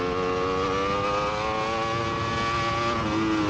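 A racing motorcycle on a track engine drones steadily at high revs while driving hard out of a corner, loud and close throughout with a constant buzzing tone and no voices.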